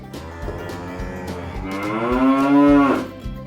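A cow gives a long, close, loud moo that rises and swells before tapering off, alone, with no talk.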